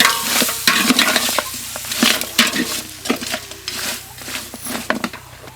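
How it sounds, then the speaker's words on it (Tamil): Goat head meat being stirred and sautéed in a pan with salt and turmeric: steady sizzling under repeated scraping and clacking of a spoon against the vessel, close and fairly loud, with no talking. "கறி வணங்கும் போதே தேவையான அளவுக்கு உப்பையும் மஞ்சத்தூளையும் சேர்த்து நல்லா வணக்கிக்கலாம்."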